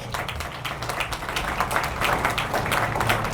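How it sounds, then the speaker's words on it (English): Applause at a Lumpkin's Slave Jail development ceremony, an even, sustained clatter of many hands clapping from a gathered crowd, moderately loud and steady, with a low background hum beneath. "let's give them another round of applause"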